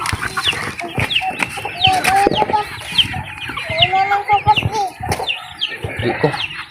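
Several fighting roosters cluck and squawk up close in irregular bursts, with occasional wing flapping and a brief crow mixed in.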